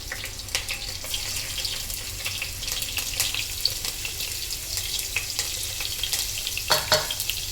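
Crushed garlic and ginger fry in hot oil with a steady close sizzle, punctuated by repeated stirring scrapes and clatters of a utensil, no voices heard.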